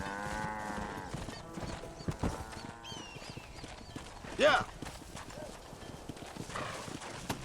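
Horse hooves clip-clopping in a Red Dead Redemption game on PS3, with cattle and livestock moving around the ranch, a brief neigh, and voices and a shout over the steady hoofbeats.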